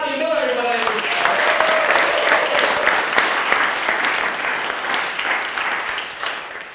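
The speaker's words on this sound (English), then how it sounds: "please give a huge round of applause for our next speaker" Audience applause for a speaker at a live SPEAKup Challenge talk event, a dense steady clapping crowd that swells after a brief voice at the start and holds loud for several seconds before tapering slightly.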